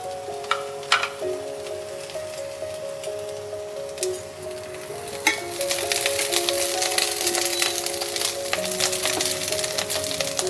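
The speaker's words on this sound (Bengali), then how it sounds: "তেলটা হালকা গরম হয়ে গেছে। এবার আমি এই ফুলকপিগুলোকে দিয়ে দেব।" Cauliflower florets dropped into lightly heated oil set off a steady, hissing sizzle with fine crackles, rising partway through and continuing under soft background music.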